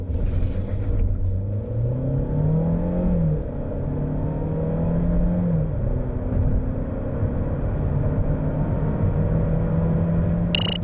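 Chevrolet Malibu 1.5 turbo pulling hard in an acceleration test, its engine note rising steadily in pitch as it revs up through the run, a continuous close rumble with no talk.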